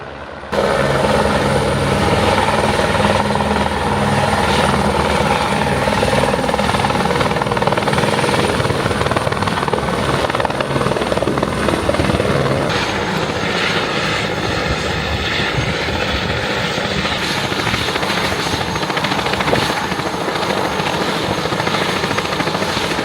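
A rescue helicopter flies on Mount Kilimanjaro, its rotor and engine making a loud, unbroken thrumming roar that holds steady at close range throughout, with no voices.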